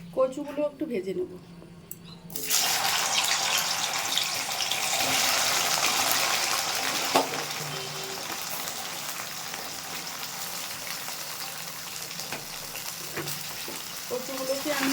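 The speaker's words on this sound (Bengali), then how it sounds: "কচুগুলো একটু ভেজে নেব।" Taro (kochu) frying in oil in a wok gives a loud, steady crackling sizzle that starts abruptly after a couple of quiet seconds, with a voice heard faintly at the start.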